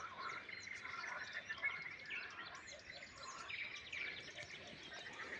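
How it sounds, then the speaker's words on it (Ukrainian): Faint frog croaks mix with distant birdsong and chirps, a quiet outdoor chorus with no clear rhythm. "квакання жабеня"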